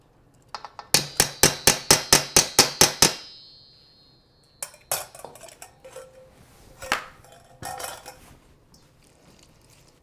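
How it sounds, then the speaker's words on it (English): Couscous is mixed with dressing in a bowl: a quick run of about ten rhythmic metallic clinks of a utensil against the bowl, then a pause and irregular scraping, tapping stirs, close up with no speech. "we'll mix that up just to let that dressing soak into it"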